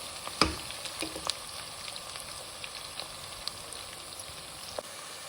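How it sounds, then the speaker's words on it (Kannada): Tomato bath ingredients fry in a pan with a steady, moderately quiet sizzle, punctuated by a few sharp clicks and taps of stirring. "ನೋಡಿ, ಇದೆಲ್ಲ ಫ್ರೈ ಆಗಿದೆ. ಇನ್ನೊಂದು ಸ್ವಲ್ಪ ಫ್ರೈ ಆಗಲಿ."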